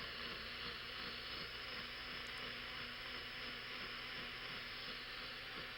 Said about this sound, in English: just put it in an electric blender